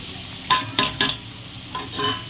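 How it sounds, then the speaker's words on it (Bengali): Spice masala of salt, turmeric and Kashmiri chilli powder being stir-fried in a pan for a village-style catfish curry: three quick scraping strokes close together, then two softer ones, over a low background sizzle. "পাঁচ মিনিট মতন মশলাটা কষিয়ে নেব"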